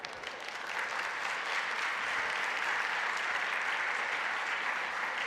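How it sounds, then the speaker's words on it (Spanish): An audience at the ExpoGenealogía conference applauds a speaker after a talk on digital preservation, a steady sustained clatter of many hands clapping at a moderate distance. "Un fuerte aplauso para este conferencista que hoy nos ha enseñado más acerca de la preservación digital"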